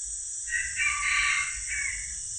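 A rooster crows once in a long, drawn-out call that rises and falls before tailing off. It sounds a little distant over a steady high-pitched hiss and low rumble, with no talking.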